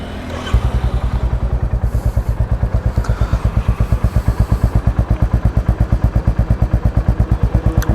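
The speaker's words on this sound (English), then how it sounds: "Let's start her up. Let's see how it sounds with a straight pipe." A Royal Enfield Meteor 350 motorcycle with a straight pipe exhaust and the catalytic converter removed starts after a brief crank, then settles into a loud, close, rapid thumping idle with an even pulsing beat.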